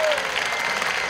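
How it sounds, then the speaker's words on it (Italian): A large pilgrimage crowd applauds the Pope in a dense, continuous wash of clapping that is loud and steady throughout the brief moment, with voices mixed into the roar. "Sente il Santo Padre l'applauso."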